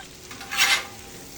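Steak cooking on an outdoor griddle: a soft, steady sizzle with one brief louder burst of spatter or scraping near the middle, fairly close and alone.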